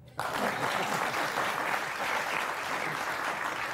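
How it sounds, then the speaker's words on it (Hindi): An audience claps steadily at a Hindi political debate event, dense, continuous applause starting abruptly and holding loud throughout without pause. "तो ताली कौन बजाएगा?"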